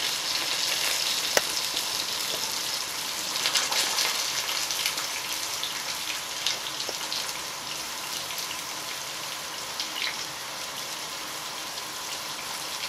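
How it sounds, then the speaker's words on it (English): Boiled potatoes sizzling in a pot, a steady close crackle and hiss with scattered pops that carries on for the whole stretch, with no voices over it. "see what's sizzling"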